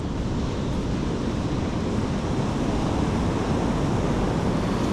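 Rough, swollen sea surf breaking on the shore at a coastal fishing and camping spot, a loud, unbroken roar of crashing water mixed with wind buffeting the microphone.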